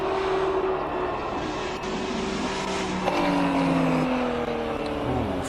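Porsche race car powering up the Simola hillclimb course, its engine a loud sustained drone with rising and falling pitch as it shifts and climbs past, steady throughout.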